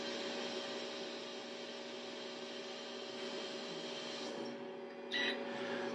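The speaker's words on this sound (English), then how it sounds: "In the dual pump system, both syringes, of course, are going to fill." A J-KEM dual precision syringe pump fills both syringes with a steady, even mechanical whir that drones on without pause, joined near the end by a brief higher clatter.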